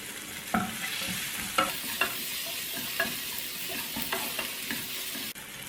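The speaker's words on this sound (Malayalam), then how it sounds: "നന്നായിട്ട് വഴറ്റിയെടുക്കുക" Onion, curry leaves and coriander stir-fried in a pan for a chicken omelette filling, with a steady sizzle broken by repeated scraping strokes of a spoon against the pan, close and continuous.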